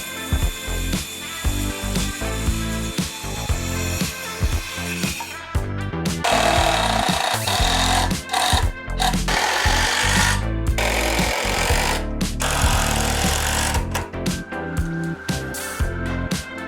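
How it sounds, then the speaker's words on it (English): A Harbor Freight palm nailer drives nails during electrical work in a tight spot of an abandoned shed being turned into a tiny house, giving loud, rapid, buzzing bursts of hammering that stop and restart several times with brief pauses. "It's a palm nailer and we got it from Harbor Freight."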